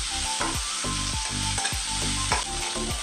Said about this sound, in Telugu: అల్లం వెల్లుల్లి పేస్ట్ ఒక స్పూన్ కొంచెం పచ్చివాసన పోయినంత వరకు అల్లం వెల్లుల్లి పేస్ట్